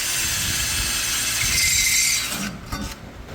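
A power drill bores into a part of an off-road trail rig, a loud, steady grinding whine that runs about two and a half seconds before cutting off, followed by a few faint clicks and rattles.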